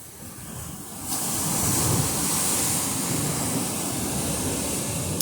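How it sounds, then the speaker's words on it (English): Ocean waves break right at the shoreline on a misty coast near Newport, a loud, continuous rushing surf roar that swells after the first second and holds steady, with no voices. "this is one of my favorites because the waves are literally breaking right here"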